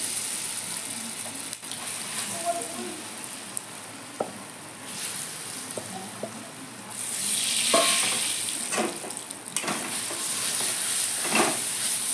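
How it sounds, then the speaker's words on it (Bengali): Cumin seeds and turmeric sizzle steadily in hot oil for a Bengali chana dal dish, a continuous bright frying hiss with occasional pops and spoon scrapes, growing louder midway, with no talk. "তেল গরম হলে দিয়ে দিচ্ছি কিছুটা জিরা, আর দিয়ে দিচ্ছি হলুদ"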